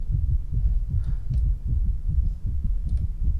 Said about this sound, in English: hear that like pulsing kind of heartbeat thing? That's warp doing